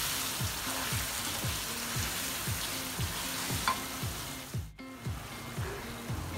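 Chicken fries with spices in a hot pan for a white chicken qorma, a dense steady sizzle close up with rhythmic scraping strokes of a spoon stirring throughout and a brief pause near the end.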